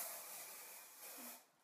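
Hairspray hisses from an aerosol can in a steady, close spray onto hair, with a brief pause around the one-second mark before it swells again and cuts off.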